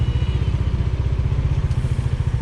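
Alone and close, a 2020 Dominar 400 UG 2.0 motorcycle idles with a loud, rapid, even low-pitched pulsing and a faint mechanical clatter.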